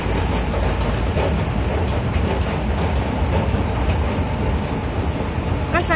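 An elevated BTS Skytrain in Bangkok rumbles steadily nearby as it arrives, a loud continuous roar of wheels on rails with faint rhythmic clatter, filling the whole stretch without pause.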